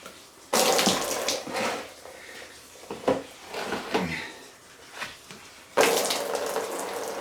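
Coolant gushes out of a Ford 4.6 Triton engine from a Ford Expedition during a teardown, a loud splashing pour that surges, ebbs in uneven bursts and surges again near the end.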